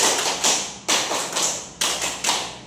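Classroom of children doing a rhythmic spirit clap, close loud sharp bursts in a steady pulse, each strong clap followed by a few lighter fading taps, with no talking.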